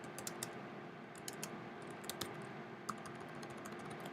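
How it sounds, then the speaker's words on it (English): Quiet, fast typing on a computer keyboard, with irregular key clicks in short bursts against a faint background hum and no talking. "and we can start typing."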